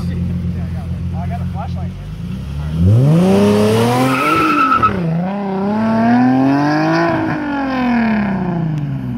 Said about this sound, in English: he's doing a burnout